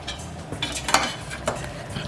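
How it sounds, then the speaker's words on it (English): A spoon scrapes and clinks against a pot while braised oxtail stew with butter beans is stirred, giving a few close, uneven knocks over a soft simmering hiss. "Alright, so now I'm going to stir this"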